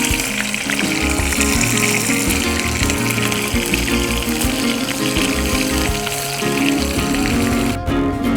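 Whole cumin, whole garam masala and tomato fry in hot oil for a katla fish kalia, a loud, continuous close sizzle with no voices.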